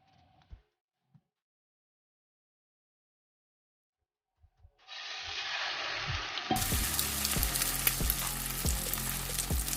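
A slice of bread frying in a pan: near silence with a few faint knocks, then a steady sizzle rises and grows louder, with rhythmic stirring or scraping taps repeating under it.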